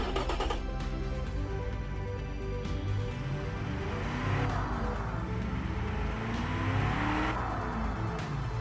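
A 1985 heavy utility car engine in BeamNG revs and roars continuously, its pitch sweeping up and down with synthetic, game-like tones, loud and close throughout.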